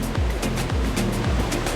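A huge waterfall roars continuously nearby, a loud broadband rush of crashing water with surging pulses and low rumble.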